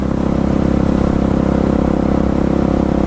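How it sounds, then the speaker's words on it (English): Motorcycle engine idling in freezing winter cold at an abandoned gas station, a close, steady rapid low thumping pulse with even mechanical chatter, continuous and loud with no voices. "letting the bike idle, trying to warm up"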